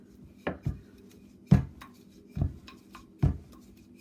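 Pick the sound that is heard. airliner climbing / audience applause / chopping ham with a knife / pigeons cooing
chopping ham with a knife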